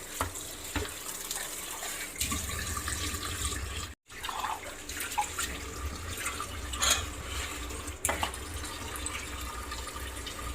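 Tap water runs steadily while something is washed under it in a home sink, a continuous rushing splash that cuts off briefly midway, then resumes with faint clinks.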